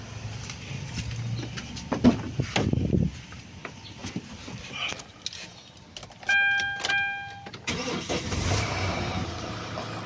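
A car that would not start, now fitted with a starter, cranks in a loud burst, then a brief electronic chime sounds, and the engine runs again near by, with faint voices in the background.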